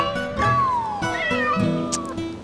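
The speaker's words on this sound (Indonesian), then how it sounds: "Jak, ada kucing masuk ke dalam" A cat that has wandered indoors meows several times, loud and close, with drawn-out wavering cries over a faint background.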